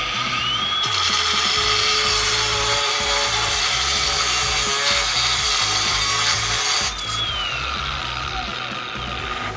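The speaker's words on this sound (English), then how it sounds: "And we're going to cut this rebar here and then make a quick blade change and show you again." A cordless Flex angle grinder with a variable-speed paddle switch and a stacked lithium battery cuts through steel rebar, a loud, steady, harsh abrasive whine that runs nearly unbroken, easing slightly after a brief shift near the end.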